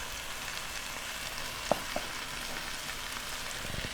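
Mushrooms sizzle steadily in a pan, a soft continuous frying hiss with a couple of small clicks from stirring or seasoning, no talk over it.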